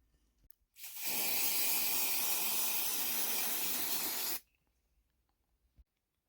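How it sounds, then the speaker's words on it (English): A steady, loud hiss of Humbrol acrylic spray paint in one continuous burst of about three and a half seconds, starting and stopping abruptly, with quiet before and after. "I'm going to use a Humbrol acrylic spray, specifically Gloss Italian Red."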